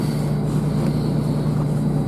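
A cold vehicle engine idles at a little over 1,000 rpm, a steady low hum with a constant drone and no change in pitch or level.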